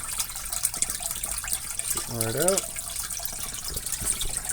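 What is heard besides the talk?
turtle tank filter water outflow waterfall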